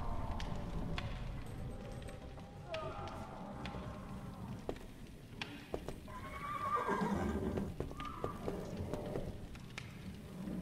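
Nervous horses neighing and whinnying in a stable scene from the adventure game Secret Files 3, with scattered hoof clops and stamps; a long whinny rises midway over a low background rumble, moderately distant.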